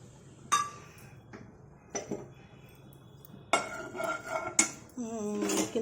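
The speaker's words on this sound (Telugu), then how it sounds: "ప్యాన్ పెట్టి నూనె వేసాను." A pan is set on a stove and oil poured in: scattered metallic clinks and knocks of cookware, then a short run of rattling and a brief steady pour near the end, all fairly quiet and close.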